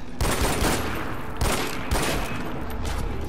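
Rapid automatic gunfire in the first-person shooter Far Cry 4, loud, dense bursts of shots that run almost without pause over a background of game noise.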